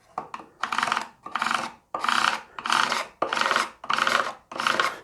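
A sharp chisel scrapes glue squeeze-out off a wooden guitar body in about seven close, even rasping strokes, each a second or less with short pauses between them.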